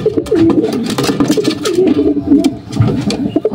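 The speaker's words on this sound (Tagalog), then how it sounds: "O yan, pangalawang ibon natin, si Kulatoy." Racing pigeons cooing close up in a loft during club training, repeated throaty rolling coos overlapping one another with light rustling between calls.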